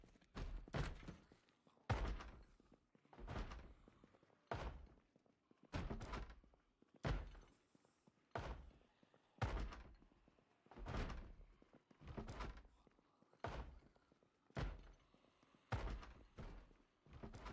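Zombies bang on a door in the video game Project Zomboid, with heavy thuds in an irregular but steady rhythm, about a dozen loud hits spread across the stretch and no talk.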